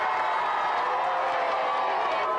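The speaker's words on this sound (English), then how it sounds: "Give a big round of applause for this team, RCC." Studio audience at a televised video game show applauding and cheering, a steady wash of claps and crowd noise that stays loud and even throughout.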